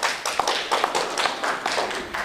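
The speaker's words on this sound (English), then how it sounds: "Please hold your applause." Applause from a forum audience, a brief burst of many hands clapping at a moderate distance, dense and steady with sharper individual claps standing out.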